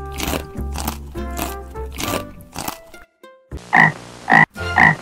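Frog croaks in the survival video game Don't Starve, a series of loud, rhythmic croaking calls followed after a brief gap by a few sharper, crunchy croaks.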